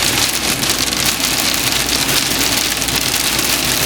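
Steady rain patters hard on surfaces nearby, a dense, continuous wash of drops with a faint low rumble underneath and no talking.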